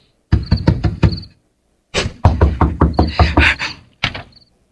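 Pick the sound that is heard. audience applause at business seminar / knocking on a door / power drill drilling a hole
knocking on a door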